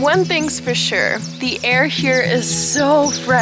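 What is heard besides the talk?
No everyday noises stand out.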